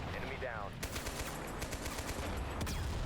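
Heavy gunfire from a tank battle in a war video game: a dense, sustained barrage of loud automatic bursts and booming shots over a low rumbling battlefield din, with no voices.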